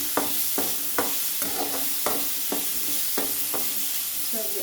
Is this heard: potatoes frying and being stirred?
yes